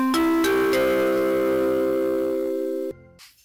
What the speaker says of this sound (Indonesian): Istirahat, suaranya seperti ini untuk istirahatnya.